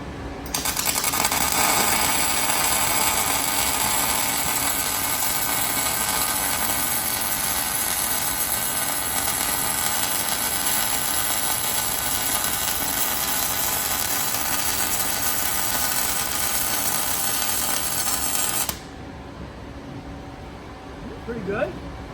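Steady, loud buzzing hiss of a weld being laid around a washer on a lap joint runs continuously for about eighteen seconds, then cuts off abruptly, leaving quieter room noise.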